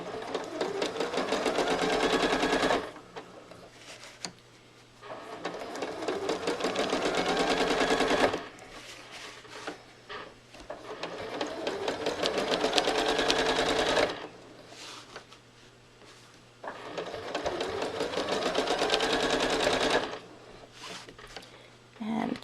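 A sewing machine stitches in long continuous runs while quilting, each burst lasting several seconds and broken by short pauses, loud and close with a steady rapid needle rhythm.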